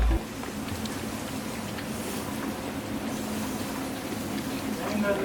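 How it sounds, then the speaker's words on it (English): Cold rain falling outdoors beside a grill, a steady dense hiss of drops on surfaces that runs throughout with a faint low rumble beneath. "it's raining and it's cold."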